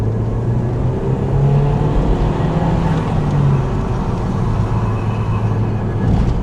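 An Audi with badly worn brakes drives along, its engine humming steadily nearby with low droning tones that shift in pitch as it changes gears, under a constant background rumble.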